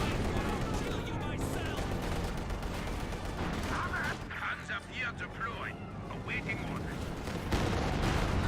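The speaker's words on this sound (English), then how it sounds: "got a artillery barrage, 6 boost barrage" Artillery barrage in Company of Heroes 2, a dense continuous rumble of booms and crackling gunfire, loud and sustained, with scattered shell bursts throughout.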